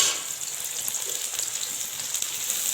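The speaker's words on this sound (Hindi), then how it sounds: "ऑयल हमारा गर्म हो गया, अब हम इसमें प्याज डाल देंगे" Onions fry in hot cooking oil for a chicken qorma, giving a steady, even hiss and sizzle like light rain. It is close and constant throughout, with no voices.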